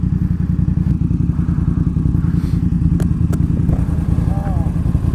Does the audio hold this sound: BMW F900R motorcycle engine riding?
yes